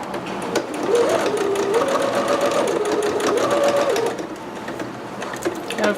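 A home sewing machine stitches the shoulder area of a McCall's M6701 dress, leaving an opening for a strap. The motor whirs steadily and close up for about four seconds, then eases off before a brief final burst.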